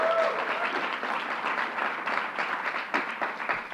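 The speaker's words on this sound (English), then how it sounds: "Let's give Kristen another round of applause" A crowd's round of applause at a bill-signing event, dense sustained clapping from many hands at fairly close range, running throughout without speech.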